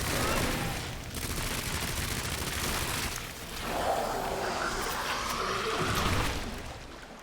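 In Resident Evil 2 Remake, SMG bursts and Magnum shots are fired at a G-Adult boss in an upper waterway. Dense, rapid gunfire with heavy booms rolls on almost without a break, with a brief lull, over a wet, echoing ambience.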